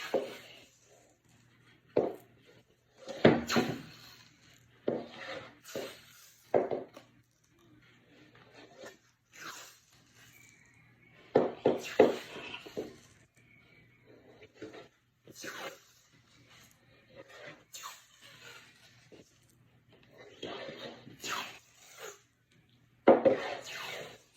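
Adhesive tape pulled off the roll and wrapped around a hockey stick blade, with repeated ripping, rubbing and crinkling bursts separated by quiet gaps, close and moderately loud.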